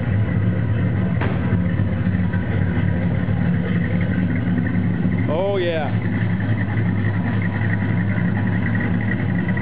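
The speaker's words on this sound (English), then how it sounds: "That's the way you expect a muscle car to sound." A 1956 Chevrolet 210 custom muscle car engine rumbles steadily with a deep, loud idle throughout, while a voice briefly speaks over it.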